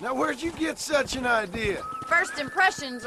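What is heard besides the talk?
None of the usual background noises is heard.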